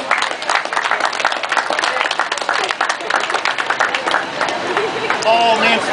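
A crowd claps steadily in a warm round of applause for police auxiliary officers at an outdoor torch run event, with voices murmuring beneath it.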